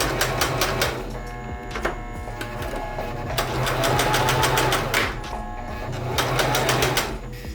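A sewing machine stitches a T-shirt hem, running forward, reversing, then going forward again to lock the stitch: steady mechanical chattering in bursts with short pauses, close and fairly loud.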